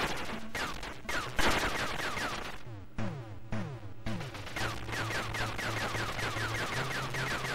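Rapid bursts of blaster fire while shooting aliens in Xenon 2 Megablast on the Atari ST, chattering in quick repeated volleys over a pulsing synth music track, loud and continuous with no talk.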